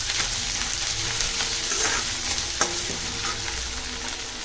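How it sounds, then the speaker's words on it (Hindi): Spices and onions frying in a pan while being stirred, with a steady close sizzle broken by scraping spoon strokes and a sharp clack near the middle; no one speaks. "इसको मिला देंगे और भून लेंगे अच्छे से प्याज के साथ।"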